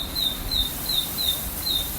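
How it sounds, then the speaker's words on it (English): A high, thin bird chirp repeats five times at a steady pace, clear against a soft outdoor background. "Hear that noise? Oh, that's a bird."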